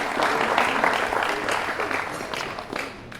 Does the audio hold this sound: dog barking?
no